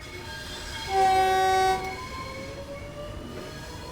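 A train horn sounds once in the game Train Sim World 3, loud and sustained for about a second, over a low steady rumble of rail noise, on the Dartford to Gillingham route.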